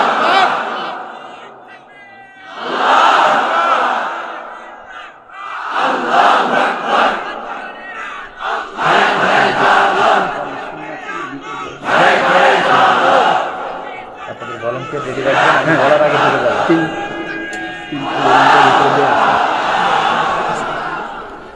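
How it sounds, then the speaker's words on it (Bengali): A large crowd at an Islamic sermon gathering roars the takbir in unison, several loud shouted waves spaced a few seconds apart, with a preacher's voice leading between them. "তাকবীর পড়েন তো, লিল্লাহে তাকবীর।"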